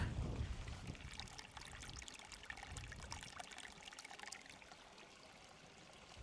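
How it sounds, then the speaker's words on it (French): A stream flowing along a nature walk, a faint continuous trickle and gurgle of water heard up close and alone, with a soft rustle near the start. "Est-ce que tu entends l'eau ?"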